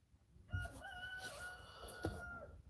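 A rooster crows once, loud and close, its harmonic call rising and holding for about two seconds before trailing off, with a brief rustle at the end.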